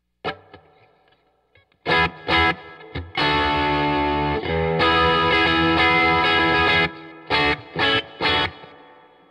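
Cheap relic-style electric guitar through overdrive, strummed chords ringing out in sustained bursts with short stabs near the start and end, loud and close with no talking.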